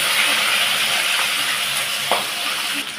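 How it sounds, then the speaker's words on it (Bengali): Pieces of rohu fish fry in hot oil, giving a steady, loud crackling sizzle with a brief clink or two of utensils near the end. "এইদিকে মাছগুলো ভাজা হচ্ছে"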